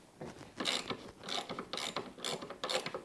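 A ratchet clicking in quick repeated bursts as Torx screws are backed out at the rear of a snow tunnel flare, close and fairly quiet.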